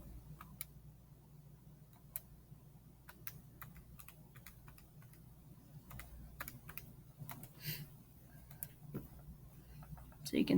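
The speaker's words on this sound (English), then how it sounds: "Typing in the calculator." Quiet, irregular clicking of buttons pressed on a calculator keypad while working a geometric series problem, soft taps in uneven bursts over a low background hum.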